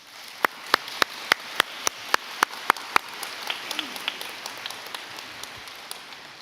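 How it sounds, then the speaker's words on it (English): Audience at a college convocation applauds with scattered, fairly sparse claps that thin out and fade over several seconds, heard from a distance in a large hall. "Let's give them a round of applause."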